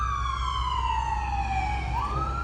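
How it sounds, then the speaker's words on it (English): A fire truck's wailing siren sweeps steadily downward in pitch then jumps back up, loud and fairly close, over a low rumble of road traffic. "We do have something else come with sirens from the right."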